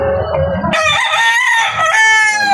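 A talisay gamefowl rooster crows loudly and close by in one full, drawn-out call, with some clucking just before it.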